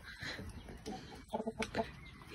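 Chickens in a coop give soft, close clucks, with a short burst of several quick clucks near the end over low background rustle.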